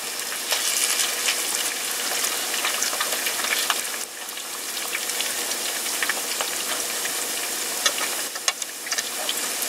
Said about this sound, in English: It just makes it crispier if you double fry it, so that's what we're doing.